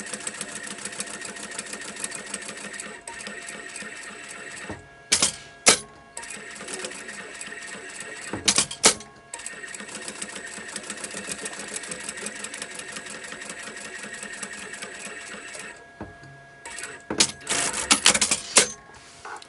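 A sewing machine stitches a quilted double-zip pencil pouch with a flap and bias binding, running in steady mechanical bursts with brief pauses between stitching passes, loud and close.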